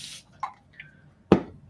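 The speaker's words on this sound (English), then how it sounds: "I'm gonna spray a little bit of water on my palettes because they're drying." A spray bottle mists water onto drying paint palettes, short hissing spritzes with small wet taps, followed by a sharper hard knock close by, all without talk.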